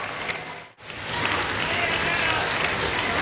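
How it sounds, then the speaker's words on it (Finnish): Applause breaks out after a brief pause and continues steadily, a dense spread of clapping from a crowd. "Noin ja aplodit."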